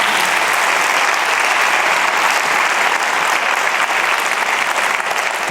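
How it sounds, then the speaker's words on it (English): Conference audience applause at the Dance/USA annual conference opening plenary: a large hall of listeners clapping loudly in a dense, unbroken roar of hands that stays level for several seconds, with no voices over it. "Let's have one more round of applause for Rob Gordon."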